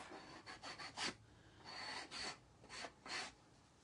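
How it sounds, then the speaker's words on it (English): Hand sanding of a written message off a surface, several short quiet rubbing strokes in uneven bursts, close and soft with no talking. "Let's get rid of that message. Sand that off."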